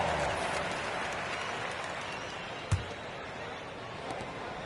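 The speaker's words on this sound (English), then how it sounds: "Give yourself a round of applause." Broad, steady applause from a large crowd at a basketball game in Houston fills the space, with one sharp thud partway through.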